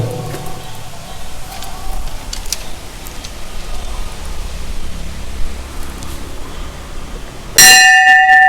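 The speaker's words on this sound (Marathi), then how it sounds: "याला म्हणतात आवाजाचा घंटानाद" A temple bell rings out sharply near the end after a stretch of steady broadband noise, with a clear metallic tone that lingers.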